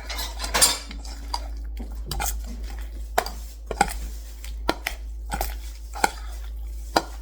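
A spoon mixes guacamole with sprinkled peppers in a bowl, giving repeated sharp clinks and soft scrapes against the bowl in an irregular rhythm, close and clear over a low steady hum.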